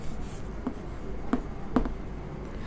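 Pen or marker strokes of someone writing a math condition by hand, three soft taps and scratches at a steady pace, faint against quiet room noise.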